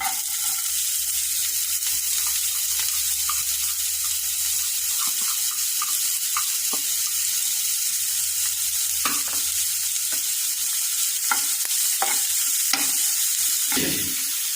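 Chopped onion frying in a pan for masala idli upma, a steady hiss broken by sharp scraping stirs that grow busier toward the end, with no one talking.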